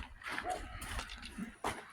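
Dogs out in a hollow give brief, wavering whimpering howls, moderately close and fairly faint, with a couple of rising cries over a rough outdoor background.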